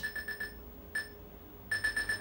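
An MTG-1 frequency detector device, a handheld treasure-search locator, gives bursts of rapid, evenly pulsed high electronic beeps, then a single beep after a pause, then another fast pulsing run, close and clear with no voices.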